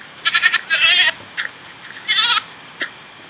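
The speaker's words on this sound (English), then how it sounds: "Let's try killing this goat." A goat bleats several times in the Minecraft Yogbox modpack, short bright cries in a loose run over quiet game background, with no talking.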